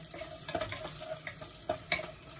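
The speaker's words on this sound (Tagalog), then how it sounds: "Tapos ng bawang sibuyas, halo-halo rin lang natin ng konti." Garlic and onion sizzle in a frying pan while being stirred, with a soft steady hiss broken by several scraping clacks of the utensil against the pan.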